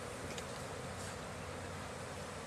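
Honeybees buzz around an opened hive during a late-winter inspection, a faint, steady droning hum that carries on unbroken.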